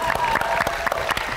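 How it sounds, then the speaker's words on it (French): A small studio audience claps for two guests, a short burst of scattered, moderately loud applause with individual claps audible while someone talks. "On peut applaudir Baylan et Nico, les gars,"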